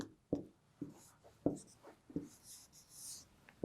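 Marker or chalk writes on a board in a classroom lesson, sharp scratchy strokes in short irregular bursts with brief squeaks, close and fairly quiet.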